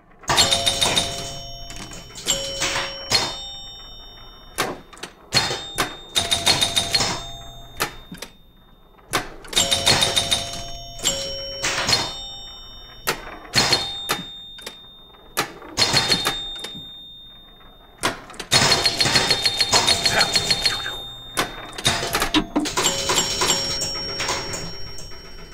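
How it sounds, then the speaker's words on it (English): Sharp popper hits on a virtual Gottlieb Fast Draw electromechanical pinball table from 1975, crisp bursts of clacks and thwacks in rapid clusters with pauses between, close and loud, with bell-like tones ringing under them. "hitting those poppers kind of sounds like, you know, gunshots being fired"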